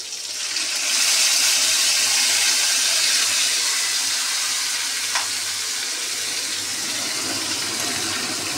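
Spice paste hits hot oil with cumin seeds in a pan for potol dorma, bursting into a loud, steady sizzle that holds close and constant throughout.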